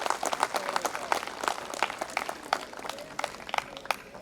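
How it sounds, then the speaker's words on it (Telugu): An audience at a school annual day claps in a scattered, moderately loud burst of applause, individual hand claps audible throughout with a faint voice underneath. "ప్లీజ్ సార్ కొంచెం గట్టిగా క్లాప్స్ చెప్తే"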